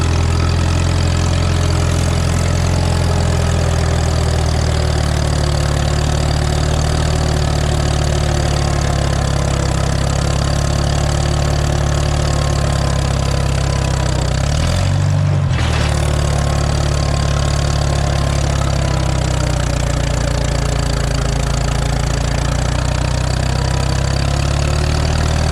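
A Farmall M tractor engine idles steadily on its first run of the year, a loud, close, low rumble running unbroken with a brief dip partway through and no talking.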